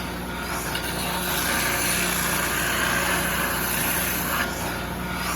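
Wood is sanded with 80-grit abrasive for an intarsia box, a steady loud whirring drone with a constant buzzing hum throughout and no talking.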